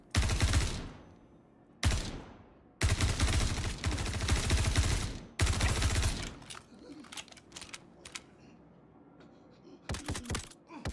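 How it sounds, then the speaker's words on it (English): Gunfire in the video game Star Citizen, with loud sustained automatic bursts followed by scattered sharp single shots and quieter crackles. "Oh, there's some shooting."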